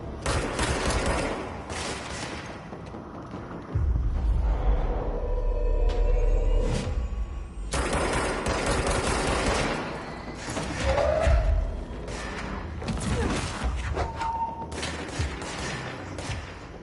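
Gunfire rattles in a video game, with repeated bursts of rapid shots and heavy thuds, loud and close, alternating with quieter stretches and no talk.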